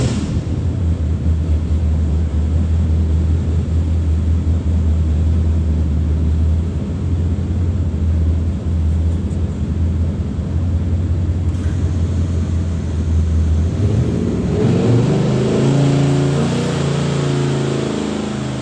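A Ford big block V8 runs a pull on an engine dyno with the air filter fitted, a loud, sustained low drone that holds steady, then climbs sharply in pitch near the end as revs build.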